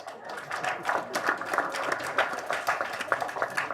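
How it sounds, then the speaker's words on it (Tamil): An audience at the Kaanadha Sudar film audio launch event claps, a sustained round of many hands at moderate loudness in a large room, with a few voices mixed in. "தயவு செஞ்சு நீங்களே ஒரு தடவை கைத்தட்டிருங்க"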